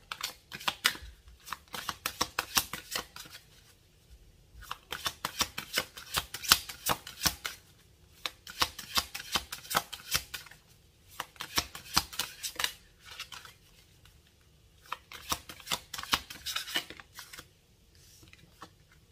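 Tarot cards being shuffled close up: repeated rapid riffling bursts of crisp card flutter, each lasting a couple of seconds and separated by short pauses, with no speech.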